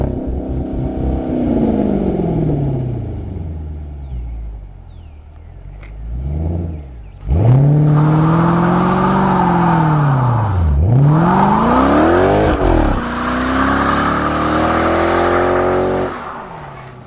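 Dodge Magnum SRT-8 with a 6.1-liter Hemi V8 revving, a deep, loud engine that drops to idle, blips once, then surges in long rises and falls close by.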